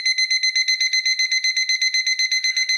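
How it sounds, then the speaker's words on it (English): An electronic timer alarm beeps in rapid, evenly pulsed bursts, loud, piercing and close, repeating steadily throughout with no voices. "I will set the timer so I'll know."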